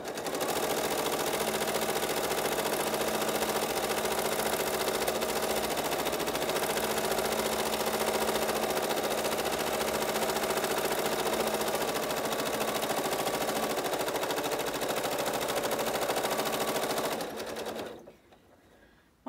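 A sewing machine stitches at high speed during free-motion quilting of a pebbles pattern, a loud, rapid, continuous whirring run that stops abruptly near the end.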